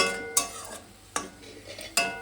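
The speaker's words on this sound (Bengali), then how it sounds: "দিয়ে এটাকে ভালো করে একটু নেড়ে নেবো।" Spiced water spinach with shrimp stirred in a pan, three distinct scraping strokes of a utensil against the pan over a faint sizzle, close and alone.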